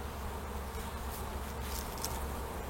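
Honeybee colony in an overwintered hive, giving a steady, dense buzzing hum that stays even throughout.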